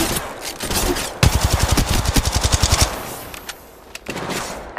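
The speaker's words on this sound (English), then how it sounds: "Opening fire." Automatic gunfire in Apex Legends Mobile, a fast even burst of about fifteen loud, close shots lasting under two seconds, then a few scattered distant shots over ambient game noise.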